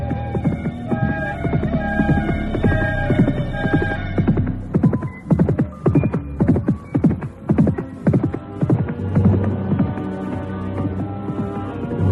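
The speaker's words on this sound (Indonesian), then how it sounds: "Kuda berwarna hitam itu berderap kencang ke utara" A black horse gallops hard as a sound effect in an Indonesian audio drama, rapid hoofbeats pounding over a constant low hum and musical drone.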